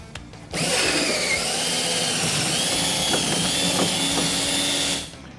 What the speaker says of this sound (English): Step 2 is going to be to drill out the rivets.